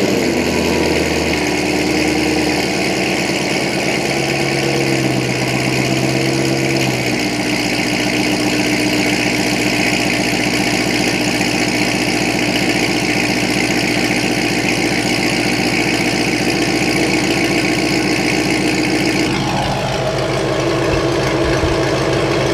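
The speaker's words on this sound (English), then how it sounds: "Now we're gonna go ahead and start the car again, so you guys will hear for the first time" A C5 Corvette idles with longtube headers, an X-pipe and a Corsa Extreme exhaust, a loud, steady, close rumble that holds for about twenty seconds before shifting in tone near the end.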